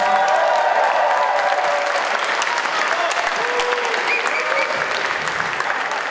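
An audience applauding at a live show, a dense, steady wash of clapping that carries on throughout without letup, with a few voices mixed in.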